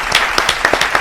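Brief scattered claps from a game-show studio audience, a handful of separate sharp hand strikes over about a second rather than full sustained applause.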